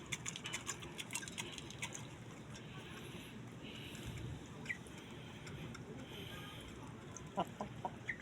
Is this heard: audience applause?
no